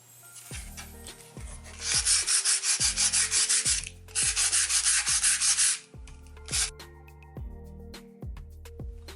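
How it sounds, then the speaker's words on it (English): Fine sandpaper rubbing back and forth on a wooden hanging shelf, loud close strokes in two long rhythmic bursts and a few shorter passes, with a steady tonal music bed underneath. "I'm going to take some fine sandpaper"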